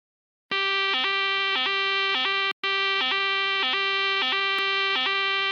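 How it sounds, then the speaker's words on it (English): A fire alarm blares loud and close in steady electronic pulses, dropping out for a moment partway through and then starting again. No voices can be heard. "Now time to pull the fire alarm and then run away."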